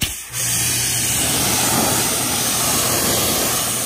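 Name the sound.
water rinsing bugs off a car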